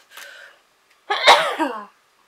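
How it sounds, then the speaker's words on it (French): A short breathy inhale, a pause, then one loud, close sneeze that trails off. "Je vais éternuer."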